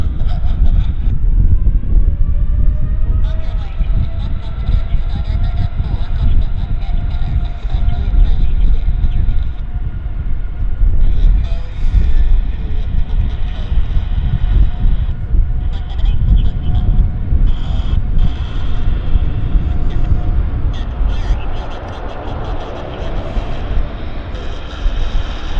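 An airplane passes at Vancouver Airport, its engines giving a loud, sustained roar that builds and lingers over nearly half a minute, with a whining tone above the rumble and voices faintly under it.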